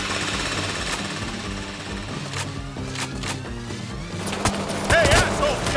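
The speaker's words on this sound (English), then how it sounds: "Drill set up!" A heist drill grinds into a vault door in Payday 3, a rapid mechanical hammering with a steady repeating rhythm, joined by sharp impacts and game effects toward the end.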